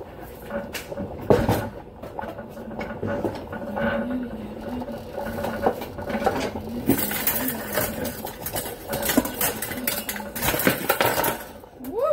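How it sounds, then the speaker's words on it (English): Metal kitchen utensils fall and clatter in a home kitchen during late-night spaghetti and meatball cooking, a string of close, sharp clinks and knocks spread across the stretch with low kitchen noise underneath. "All my tools are falling"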